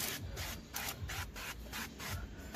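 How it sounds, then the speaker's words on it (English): A soap scrub pad rubs back and forth across the back window glass of a Chrysler, a close rhythmic swishing scrub of roughly eight quick strokes with no talking. "Take our regular soap scrub pad and then go ahead and start preparing it that way."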